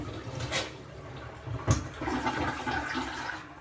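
A toilet flushes in a short burst of rushing water with a brief clunk partway through, moderately loud and close, with no voices.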